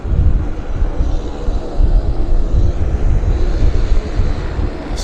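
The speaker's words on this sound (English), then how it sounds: "the flightware listed this as an Australian Air Force C-17" An Australian Air Force C-17 at Vancouver Airport gives off a loud, steady jet rumble with buffeting wind noise, a continuous low roar throughout, no voices.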